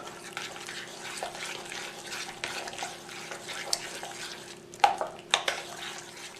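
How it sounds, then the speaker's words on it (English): Buñuelo dough is stirred rapidly in a bowl to work in an egg, producing soft wet slapping and scraping strokes in a quiet room, with a couple of sharper knocks near the end and no talk. "I'm going to stir again rapidly to incorporate the egg fully into the dough."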